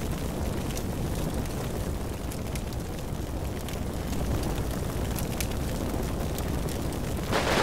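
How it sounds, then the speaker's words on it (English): Grenade explosions in the World War II tactics game Combat Mission Red Thunder rumble as a dense, continuous barrage of booms and crackling blasts, with a sharper burst near the end. "Can you like stop chucking grenades at these people?"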